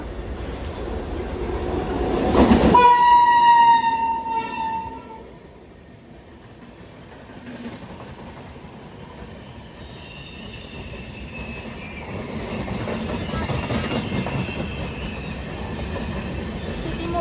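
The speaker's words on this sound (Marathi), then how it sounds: "हे ट्रेन आलेली आहे पहा" A train rolls in with a loud rumble and a brief high wheel squeal, then clatters on more quietly before the rumble swells again.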